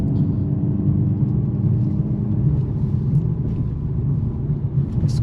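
A 2025 Mercedes-AMG CLA 45 S coupe's engine drones low and steady while driving in Sport Plus mode, a constant close rumble with road noise and no speech throughout.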